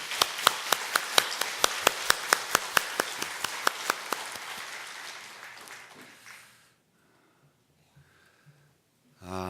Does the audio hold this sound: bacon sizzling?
no